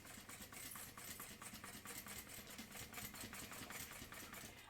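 A home sewing machine runs steadily, stitching a half-inch seam allowance around a Halloween trick-or-treat bag, its fast even motor whir and needle chatter continuous and close throughout.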